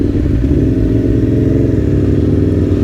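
An Aprilia Tuono V4 1100 Factory motorcycle with its exhaust baffle removed, idling close by with a loud, deep, lumpy burble and fast pulsing throb, steady throughout.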